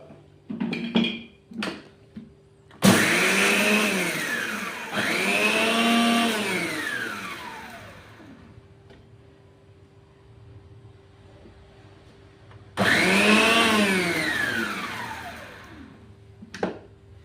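An electric mixer grinder whirs at high speed grinding coriander seeds, chili powder, cumin and sesame, running in two loud bursts of about two and four seconds with a quieter pause between, then a final loud burst near the end.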